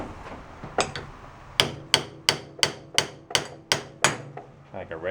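Sharp metallic hammer blows from a dent puller striking a motorbike part during board track motorcycle service, about ten loud evenly spaced impacts, close by and with no speech.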